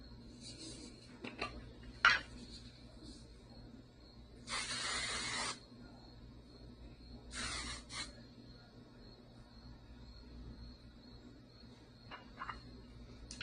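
Two short bursts of Euphora Style dry shine hair spray hiss out close by, about a second each, separated by quiet room sounds and faint handling noises.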